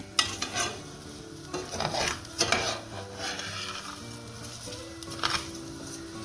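Rice for Mexican rice browns with onion in a pan, stirred by a utensil that scrapes and taps the metal in uneven strokes over a steady close sizzle.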